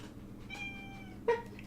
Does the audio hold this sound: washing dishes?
no